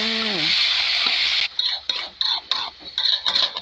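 Food being stir-fried and tossed in a pan: a loud continuous sizzle at first, then broken into rhythmic bursts of hissing and scraping as the spatula turns the contents, with a few faint clinks.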